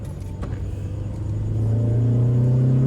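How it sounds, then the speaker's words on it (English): A car engine revs up, its low rumble rising steadily in pitch and loudness as it accelerates, close and with no talking. "every time he steps on the gas, the engine feels light"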